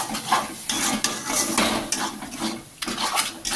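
Mutton masala with grated tomato being stirred and scraped in a pan, utensil clinks and scrapes repeating steadily over a soft sizzle, close and fairly loud.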